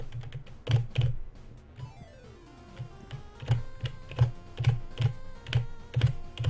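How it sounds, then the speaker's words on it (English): Loud computer keyboard typing, keys struck hard in quick irregular bursts and clusters, close and clear with a faint hum beneath, no voices. "I'm actually hitting the keys really loud."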